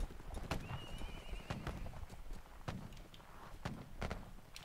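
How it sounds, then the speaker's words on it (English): A horse in a Caribbean-set video game clip-clops along with steady, heavy hoof thuds. A high whinny rises early on, and the hoofbeats carry on alone at an even walking rhythm. "There's a lone horse."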